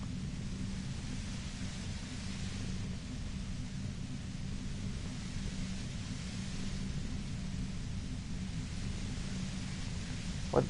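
A steady hiss of white-noise static over a low rumble plays throughout in Disco Elysium, constant and even in level, with a small sharp blip at the very end.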